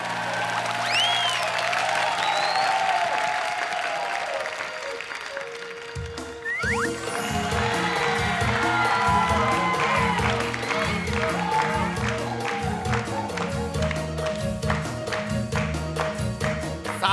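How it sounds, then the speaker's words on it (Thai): Audience applause at a children's talent show audition, a broad wash of clapping with a host talking over it, giving way to a loud rhythmic music backing track. "ขอเสียงปรบมือ"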